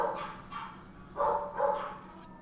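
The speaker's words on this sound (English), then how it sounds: "Would you guys go crazy if you had to listen to this type of barking 24/7?" A handful of barks from a nearby dog, spaced irregularly, with a steady low background hum.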